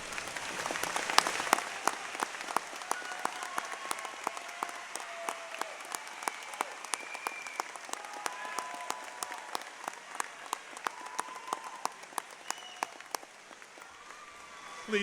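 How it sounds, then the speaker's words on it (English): Audience at a 2023 high school commencement ceremony applauding, a sustained wash of many hands clapping in a large hall, fairly distant and steady for the whole stretch, fading slightly at the end. "I'd like you to please stand and join me in a round of applause"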